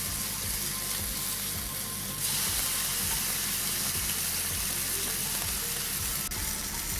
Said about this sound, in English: you just put it onto your griddle pan on high heat for about a minute or so